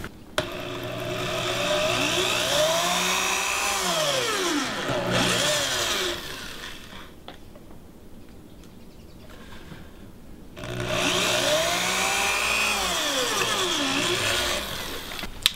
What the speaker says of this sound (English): now I'm going to drill the holes for this handle